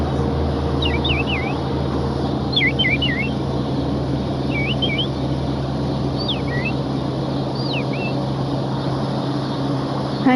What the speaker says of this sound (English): Little birds in the park across the street.